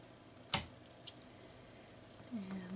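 Scissors snip once, sharp and close, trimming craft material for a wooden block snowman. The room is quiet around the cut, with a faint tone near the end.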